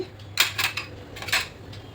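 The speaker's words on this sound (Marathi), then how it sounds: "ही डाळ आता मी कढईमध्ये टाकली आहे, ती भाजून घेते थोडा कलर चेंज होईपर्यंत." Dry lentils (dal) stirred and roasting in a metal kadai, a few sharp scraping and rattling clinks of a spoon against the pan in short bursts over a low steady background hum, no talking.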